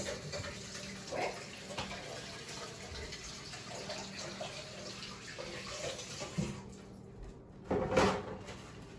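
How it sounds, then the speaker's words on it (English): Water runs steadily from a tap as hands are washed in a home kitchen, a constant moderate hiss with a few brief splashes and bumps near the end. "I'm just going to wash my hands"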